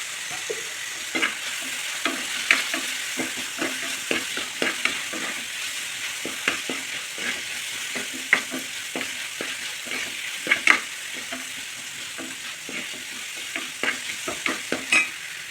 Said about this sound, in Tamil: அப்போ தான் இந்த வெங்காயமும் தக்காளியும் சீக்கிரமாக வதங்கும்